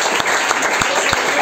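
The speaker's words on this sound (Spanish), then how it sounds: "¿Por qué no le da un aplauso al Señor?" A church congregation applauds during a Spanish-language worship service, with steady, dense clapping close by that carries on without a break.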